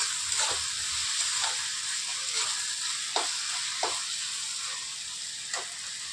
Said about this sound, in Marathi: मुठभर वल्ले वाटाणे ती सोलून घेतलेले ते पण तेलात टाकून परतून घ्यायचे.